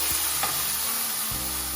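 Bulgogi sizzling and frying in a pan, a steady close hiss with a spatula scraping and stirring through it.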